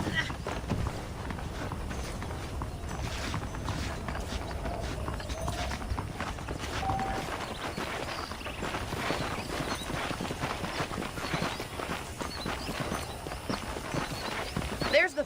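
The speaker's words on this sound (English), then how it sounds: "The horses are saddled up over here." Steady clip-clop of horse hooves on a dirt path, continuous and fairly close, mixed with ambient outdoor game sounds and occasional speech, in the video game Red Dead Redemption.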